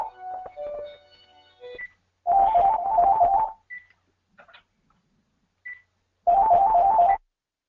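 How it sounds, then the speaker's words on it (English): A telephone rings during an online webinar: two loud bursts of a warbling electronic ringtone separated by several seconds, with a few faint short beeps and near silence around them. "I was just waiting till the ringing stopped"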